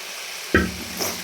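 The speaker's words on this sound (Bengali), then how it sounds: "এবার আমি আলুগুলো দিয়ে দেবো" Potatoes tipped into hot oily spice paste for a tilapia curry hit with a sharp sizzling splash, followed by a softer stir and scrape in the pan.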